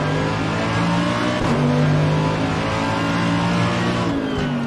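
A race car in Assetto Corsa Competizione accelerates hard off a green-light start, its engine note rising and shifting through gears, loud and steady throughout with no talk.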